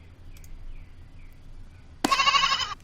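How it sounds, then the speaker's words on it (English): A sheep in the online horse-riding game Star Stable gives a single loud, clear bleat near the end, after a few faint quiet moments of low background game ambience. "He's a real casual sheep, that Juan."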